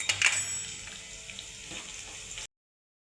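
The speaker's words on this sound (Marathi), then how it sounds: "मसाले फ्राय झालेले आहे." Spices, including cumin, curry leaves, green chili and coriander-cumin powder, fry in a pan of hot oil with a soft, continuous sizzle, a few sharper crackles and light stirring near the start before it fades away.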